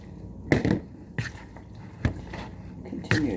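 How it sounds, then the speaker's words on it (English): Thick egg mixture splashes and drips onto spaghetti in several wet bursts, squishing as it lands and settles, with quieter pauses between pours. "pour the egg mixture onto the spaghetti"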